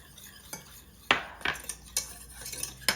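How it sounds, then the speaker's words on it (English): Sugar and cornstarch are whisked together in a bowl for a strawberry filling, with a handful of sharp metallic taps and scrapes of the whisk against the bowl, close and fairly quiet. "I have a 1/4 cup of sugar, 2 teaspoons of cornstarch. Whisk this together."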